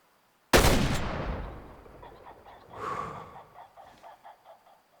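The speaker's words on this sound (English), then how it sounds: "I am going to just take another shot at one of these guys over here" A single loud, close rifle shot cracks out in the hunting game Way of the Hunter as a player fires at an animal in the Nez Perce Valley, followed by a decaying rumble and fainter clicking handling sounds.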